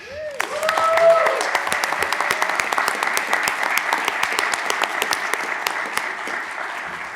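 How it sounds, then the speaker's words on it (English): Applause from the attendees of a transit commission board meeting, a dense steady clapping that swells in the first second and then holds at an even level, with a brief voice and a tonal chime near the start. "One more round of applause."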